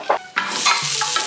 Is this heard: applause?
no